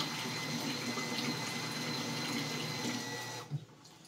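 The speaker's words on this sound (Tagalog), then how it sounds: "So, yan ang daloy ng tubig niya." Steady water flow from a small 400-watt, about 0.5 horsepower self-priming automatic booster pump feeding a faucet, a continuous hiss and hum that cuts off sharply near the end, followed by a brief thump.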